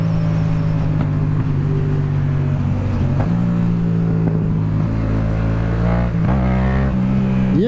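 Yamaha MT-07 motorcycle cruising on a busy highway, its engine droning steadily and loud throughout with rising and falling pitch as the throttle shifts, wind and passing traffic mixed beneath.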